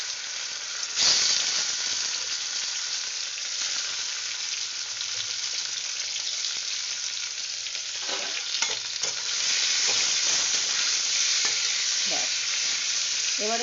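Mango pieces hit hot oil tempered with fennel seeds for a Bengali mango pickle, giving a loud continuous sizzle and hiss with scraping stirs and brief clacks of a spatula in the pan.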